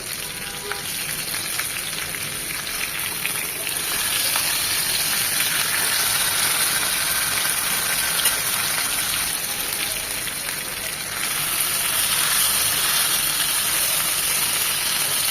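Chicken for tandoori chicken sizzles steadily in ghee, a dense, continuous crackle and hiss like rain that holds close and loud for the whole stretch, with no talk over it.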